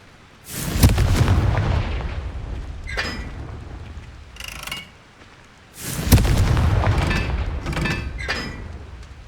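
A Confringo blasting spell goes off in Hogwarts Legacy, two loud booming explosive bursts about five seconds apart, each followed by crackling debris and rumbling, with smaller blasts in between.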